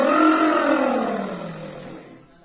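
A voice imitates a lion's growl, one long loud roaring rumble that gradually fades over about two seconds, heard alone without other talk.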